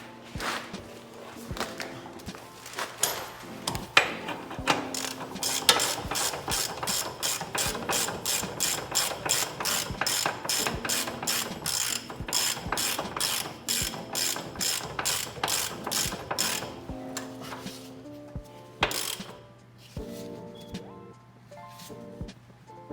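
A hand ratchet snugging up car subframe bolts during front-end work on a GLI, rapid clicking bursts repeating steadily for most of the stretch, close and clear with brief pauses and a few thuds.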